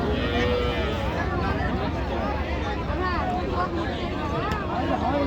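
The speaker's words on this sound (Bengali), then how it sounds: "জার্সি গরু একটা।" At a busy cattle market at Raniganj, Dinajpur, a Jersey cow gives drawn-out moos amid constant crowd chatter and bargaining voices. The lowing sits partly buried in the surrounding hubbub.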